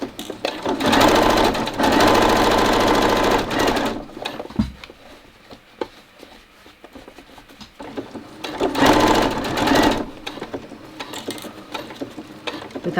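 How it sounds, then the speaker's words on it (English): A sewing machine stitching the seam of a fabric face mask whirs steadily and loudly for about three seconds. A quieter stretch with faint handling noise follows, and then a second, shorter run of stitching. "let's stitch now on this 1 centimetre seam allowance"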